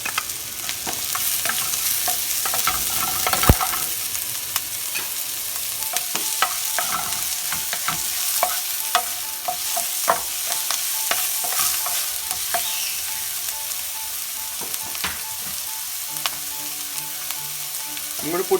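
Chopped celery stir-fries in a hot pan for Hakka chilli gobhi, giving a steady loud sizzle throughout, broken by frequent clicks and scrapes of stirring.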